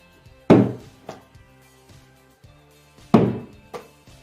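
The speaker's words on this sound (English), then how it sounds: "Did you hear the thud? I heard the thud." A ball thudding against an indoor wall, two loud dull impacts each followed by a softer rebound knock, with quiet gaps between them.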